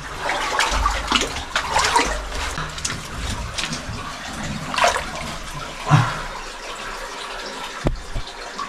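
Cold water in a narrow cave passage sloshing and splashing as someone wades and pushes through, irregular close splashes and drips, with a few louder surges and brief quiet gaps.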